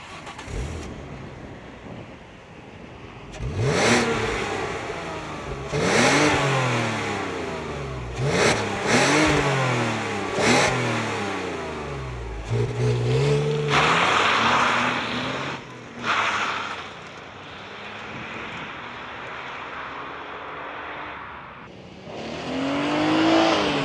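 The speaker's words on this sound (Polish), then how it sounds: "zrobimy sobie jakiś szybki soundcheck, chociaż ten silnik nie wyje, raczej mruczy" A 2000 Peugeot 406 Coupé 3.0 V6 (207 hp) revs repeatedly in a sound check, with loud, close blips rising and falling in pitch, then a longer sustained rev and a final swell, with no talk.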